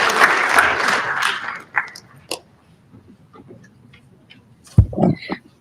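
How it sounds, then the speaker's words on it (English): Warm round of applause from the audience at a city council meeting, a dense burst of clapping for about two seconds that fades out, followed by near-silence and a few scattered thumps and shuffles. "let's give them another warm round of applause."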